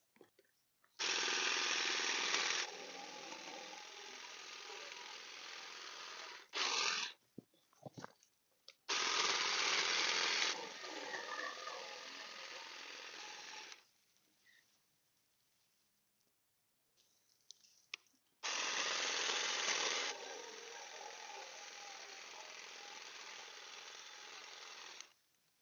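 Saker cordless hedge trimmer fitted with a grass shear attachment cutting back decorative grass outdoors, buzzing in three sustained runs of several seconds each with quiet pauses and light rustling between, close and steady.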